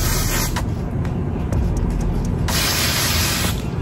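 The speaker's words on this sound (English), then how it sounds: "Some hairspray." Hairspray hisses from an aerosol can onto a ginger water wave wig, a loud steady spray running almost continuously with a few short breaks.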